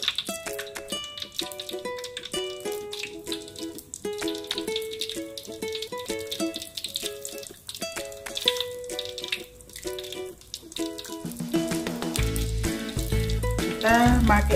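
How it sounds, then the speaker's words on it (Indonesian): Chicken pieces go into hot oil and sizzle loudly, a harsh hiss that rises near the end under background music. "Kita masukkan ayamnya, kita lagi proses goreng ayam."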